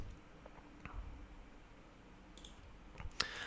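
Computer mouse clicking while navigating through folders, a few quiet isolated clicks scattered over a faint room hiss with a sharper cluster of clicks near the end.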